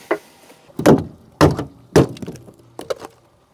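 A hammer knocks repeatedly on the rotten wheel arch of a barn-find Proton Saga Iswara, giving about five sharp, close, hollow metallic thuds spaced unevenly, with brief crackling decay and no talk.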